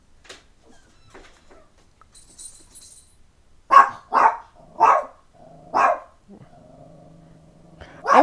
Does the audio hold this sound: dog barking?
yes